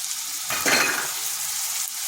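Ginger garlic paste fries in hot oil in a pan for a pumpkin and masoor dal dish, a steady sizzle swelling briefly as a spoon scrapes and stirs, then settling back; close, short, no voices.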